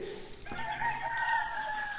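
A rooster crows once at moderate distance on a farm with fighting cocks, its drawn-out call rising over faint background noise.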